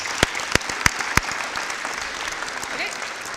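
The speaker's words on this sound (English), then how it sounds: "So congratulations, give yourselves a round of applause." Applause from the audience at the Madison High School senior awards ceremony, opening with a few loud separate claps and then settling into softer, scattered clapping.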